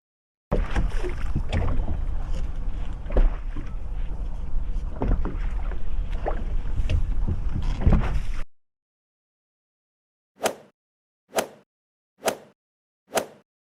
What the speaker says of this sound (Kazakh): Бұл қайық.